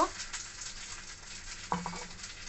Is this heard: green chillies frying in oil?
yes